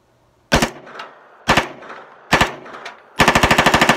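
An MP5 submachine gun with a registered trigger pack fires three short bursts, then a longer rapid full-auto burst with sharp, evenly spaced reports, loud and close, with no talking.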